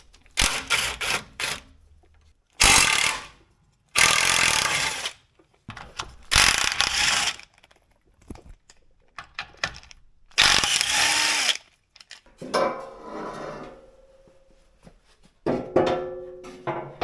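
Hand ratchet removing bolts from a Toyota 4Runner rear bumper bracket, close and loud, in several rapid clicking bursts separated by short pauses, with lighter mechanical rattling toward the end.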